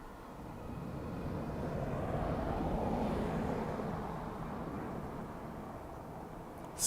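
A jet airliner arriving at Dublin Airport passes as a broad, distant roar that swells gradually to a peak mid-clip and then slowly fades, with no talking.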